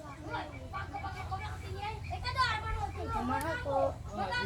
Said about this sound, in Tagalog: Maingay sa labas mga bata